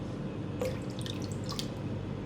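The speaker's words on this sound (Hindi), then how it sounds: "क्वार्टर कप पानी डाल रही हूँ इसमें।" A quarter cup of water is poured into soaked urad dal mixed with spices for a dhaba-style dal. It makes a brief run of light splashes and drips over a steady background hum.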